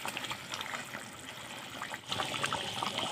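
Water is poured into a simmering pigeon meat curry, making a continuous close splashing gush that swells briefly louder toward the end, with no voices.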